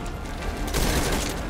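Gunfire in the video game Metal Gear Solid V: Ground Zeroes, a dense rattling burst of shots that swells into a loud continuous barrage.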